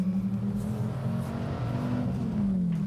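Dodge Viper ACR engine droning heard from inside the cabin, a low, steady booming tone with slight pitch shifts as revs rise and fall.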